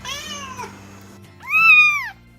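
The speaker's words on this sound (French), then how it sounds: "quand votre chat miaule comme ça" Two high, drawn-out meows from very young hungry kittens, the first one wavering and the second louder and rising then falling, heard close up with nothing else over them.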